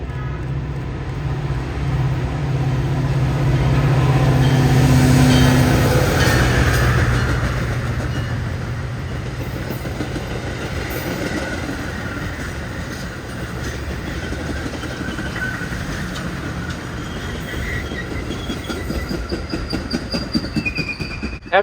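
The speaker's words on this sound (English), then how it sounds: "Here comes another Metro commuter train heading towards me with F40PH 119 in front." A Metro commuter train led by F40PH locomotive 119 rumbles past trackside, with a loud engine drone building early, then sustained wheel clatter and a faint squeal from the rail cars as it rolls by.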